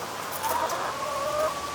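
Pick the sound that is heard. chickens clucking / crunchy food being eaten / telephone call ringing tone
chickens clucking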